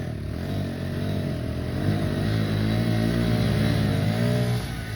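Two motorcycles, an NS 200 and a Pulsar 150, rev hard together in a rope tug-of-war, their engines droning loud and steady with wavering pitch.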